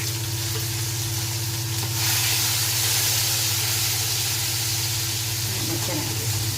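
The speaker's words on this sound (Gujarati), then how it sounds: "હું હવે આદુ મરચાંની પેસ્ટ નાખીશ।" Ginger and chili paste sizzles loudly in hot oil in a pan for a savory tomato curry, a steady close frying hiss throughout with a voice talking over it.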